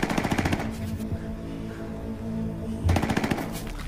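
Rapid bursts of machine-gun fire crackle at the start, a brief lull follows, then another rattling volley erupts near the end.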